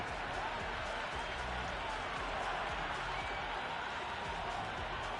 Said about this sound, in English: The crowd are really getting quite raucous.